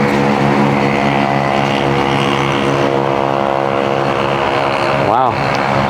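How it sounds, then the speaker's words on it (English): A propeller airplane drones overhead near a parked Jeep Wrangler JL, its steady engine hum holding loud and even throughout, with a voice speaking briefly near the end. "Why is there always an airplane here?"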